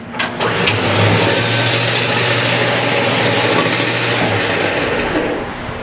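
A 1972 GMC 3500 wrecker truck's engine idles steadily and loudly up close with a low, even rumble and light mechanical clatter, no voices over it.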